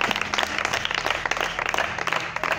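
An audience at a Christian show applauds, a brief burst of dense clapping over a faint background hum.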